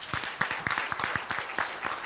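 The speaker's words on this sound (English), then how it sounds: "A round of applause for yourself." Conference audience applause, a fairly sparse patter of distinct hand claps in an uneven rhythm, moderately quiet and heard from a slight distance.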